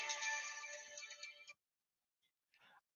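A phone rings with an incoming call, an electronic ringtone trilling loudly for about a second and a half, then stopping before a faint short blip and another brief burst.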